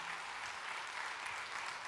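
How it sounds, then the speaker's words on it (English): Steady, dense applause from an audience at a social media summit awards event, even and sustained throughout with no break. "Let's have a round of applause for,"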